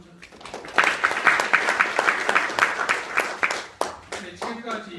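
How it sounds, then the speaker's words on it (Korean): Applause from the audience at a public hearing on terrestrial UHD broadcasting, a steady round of clapping from a room of people that swells quickly and then thins out into scattered claps, with a voice speaking over it near the end. "우리 정재훈 사무총장님께도 박수를 한번 쳐주세요."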